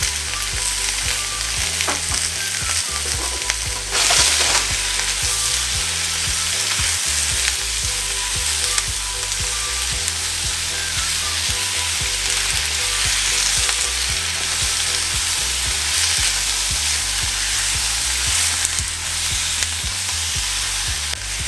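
Celery and other vegetables stir-frying for beef and broccoli, a steady loud sizzle with the clatter and scrape of stirring throughout, no talking.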